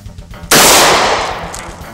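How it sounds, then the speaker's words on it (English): A single loud gunshot from a .38 Special revolver fired during a bulletproof vest test: one sharp, close crack that decays over about a second and a half, with no voices. "We'll be firing one shot out of here."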